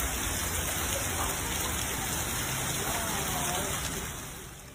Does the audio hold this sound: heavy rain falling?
yes